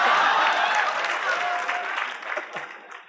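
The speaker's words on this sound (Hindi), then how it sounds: "ये किस लिए ताली मारी थी?" An indoor audience at a talk show gives a burst of clapping, loud at first and then thinning out over about three seconds.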